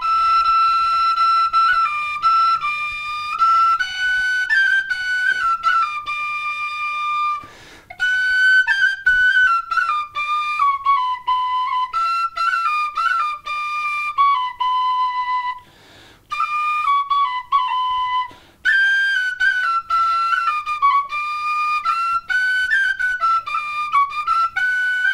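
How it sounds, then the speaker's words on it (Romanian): A Romanian shepherd's flute, the fluier, plays a folk melody, bright sustained whistling tones with a few short pauses, loud and close with no talking. "La fluier, da, o melodie."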